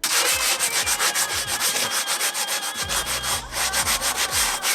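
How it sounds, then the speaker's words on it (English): Sandpaper scrubs cardboard prop arms smooth in quick, loud, rhythmic back-and-forth strokes, close up and steady throughout. "Now that all the sanding's done"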